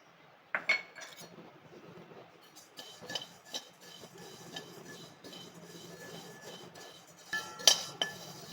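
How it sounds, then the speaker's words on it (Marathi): Cumin seeds are dry-roasted in a thick kadhai, with a spatula scraping and clinking against the metal in quiet, irregular taps and a couple of sharper knocks, close and alone. "जिरे आता आपण कढईमध्ये छान असे भाजून घेऊया"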